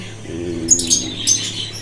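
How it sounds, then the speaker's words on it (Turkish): Several short, high bird chirps ring out over a low steady hum inside a workshop, with a brief fluttery burst partway through. "Kuşlar coşmuş durumda. E, o yüzden biraz ses olabilir."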